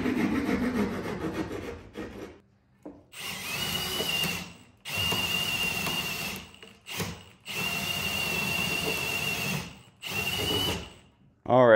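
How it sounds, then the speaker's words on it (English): A drill boring through a wooden fire break inside a wall, heard as several loud grinding bursts of a few seconds each, separated by brief pauses and ending in a whine as the bit spins freely. "now that we have drilled through the fire break"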